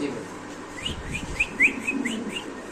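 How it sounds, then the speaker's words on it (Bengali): Dewlap pigeon calling nearby, a series of short, soft whistled coos repeated every fraction of a second over a low background murmur. "ডিউলিপ কবুতরের ডাকটা একটু আমরা দেখে দিই"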